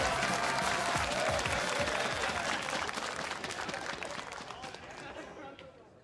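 Crowd cheering and clapping in an arena before a League of Legends LCS match, a loud continuous roar with chatter underneath that slowly fades toward the end.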